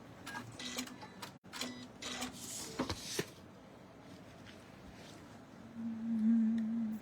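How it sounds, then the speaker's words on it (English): A serger trims and stitches fabric edges in short mechanical whirring bursts with faint clicks, followed by a brief, louder steady hum near the end. "I can trim back the edges and use my serger as well."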